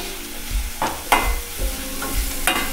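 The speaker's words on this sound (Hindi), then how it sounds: "सबको अच्छे से मिक्स कर लेंगे और इसी तरीके से छोड़ देंगे इसको 2 मिनट के लिए भुनने के लिए" Finely chopped onion with ginger-garlic paste and red chilli powder cooks over low-medium heat while a spoon stirs it, giving several distinct scraping strokes and knocks against the pan over a low sizzle, close up with no talk.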